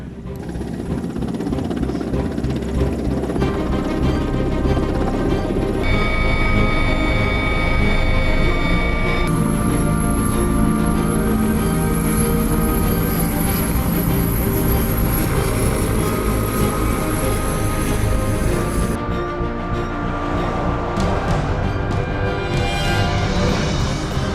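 A four-ship formation of military jets, tasked for ground attack, gives off a loud, continuous engine roar and whine that holds steady, with shifting high tones and no talk over it.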